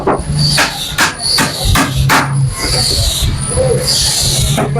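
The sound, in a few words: hammering nails into plywood speaker box frame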